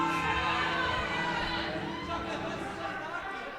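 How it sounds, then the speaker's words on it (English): A loud, raucous crowd at a hockey game, a dense wash of chatter and shouting voices that stays close and full throughout the short stretch, slowly easing slightly in level. "as you can hear the raucous crowd behind us"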